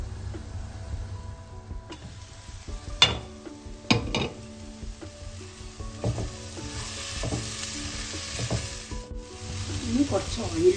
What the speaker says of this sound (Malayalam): സോയാബീൻസ് വേകുന്നവരെ നമ്മൾ ഇടയ്ക്കിടയ്ക്ക് തുറന്ന് ഒന്ന് ഇളക്കി കൊടുക്കണം.